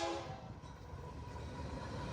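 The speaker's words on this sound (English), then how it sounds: "Hear the train coming." A Norfolk Southern train rolls along the rails toward the listener as it comes around a bend, a steady rumble with a sustained horn tone held from start to finish.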